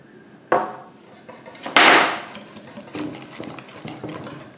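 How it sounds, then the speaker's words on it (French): Flour, baking powder, baking soda and sugar being vigorously mixed into banana pancake batter in a bowl, with a few sharp utensil clacks against the bowl and one loud scraping burst, then softer stirring noises, no talk. "ensuite on va incorporer la farine, la levure, le bicarbonate et le sucre et on va mélanger énergiquement."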